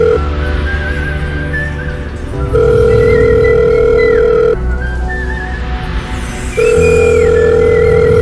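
Phone ringback after a voice assistant dials a call: loud, close repeating ring tones in long evenly spaced bursts, with a faint melodic line over them and no talking.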